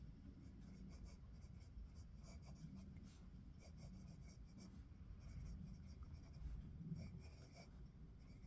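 A Gravitas Grade 5 titanium fountain pen with a Jinhao #8 nib and Diamine Syrah ink scratches softly and continuously across Clairefontaine 90 gsm paper, a faint, close, steady rasp with small strokes and pauses.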